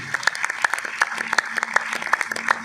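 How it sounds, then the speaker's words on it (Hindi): Crowd seated in a hall claps for farmers at a company celebration, a run of crisp, rapid hand claps, moderately loud and fairly close, with a faint hum beneath. "जबरदस्त तालियां सभी किसान भाइयों के लिए होनी चाहिए।"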